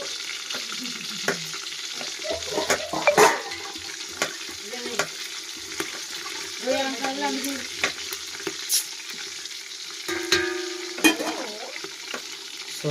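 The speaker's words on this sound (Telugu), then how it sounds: "ఇట్లా 2గా తగిన పచ్చిమిర్చిని దాంట్లో వేసి ఇది లైట్గా వేగిన తర్వాత ఉల్లిపాయ కూడా వేసేసుకున్నాం." Green chillies and onions frying in a pan, a steady close sizzle broken by clattering stirs and scrapes at irregular intervals, with no one talking.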